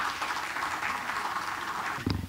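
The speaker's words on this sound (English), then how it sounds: "So please join me in giving him a warm round of applause" An audience at a symposium applauds a speaker after his introduction, giving a dense, even wash of clapping. Near the end a voice begins over the fading applause.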